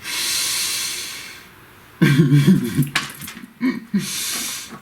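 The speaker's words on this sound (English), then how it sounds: "Nice deep breath." A deep, slow breath drawn in and let out close to the mic, a long hiss of inhaling followed by a breathy, voiced exhale with a few shorter puffs trailing after.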